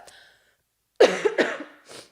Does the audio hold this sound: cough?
yes